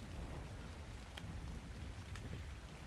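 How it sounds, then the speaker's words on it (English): Steady rain falls in the Ark Survival Ascended world on Pyranthos Astraeos, a constant even hiss with low rumbling underneath and a couple of faint brief crackles, no voices. "It's raining currently."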